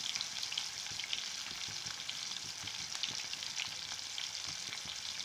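Fish fries in a hot pan for a cauliflower and fish dish, crackling and sizzling continuously with dense, quick pops at close range and no talk.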